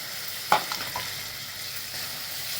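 Chopped tomatoes added to translucent onions frying in a pan for soybean bhurji, giving a soft, low sizzle with a brief clatter near the start and a few faint stirring knocks.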